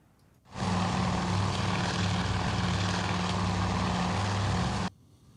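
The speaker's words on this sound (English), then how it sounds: "Probably an enemy fighter aircraft or something." An enemy fighter aircraft engine in the naval strategy game Task Force Admiral roars in abruptly, holding a loud, steady propeller drone with a throbbing low hum for about four seconds before cutting off sharply.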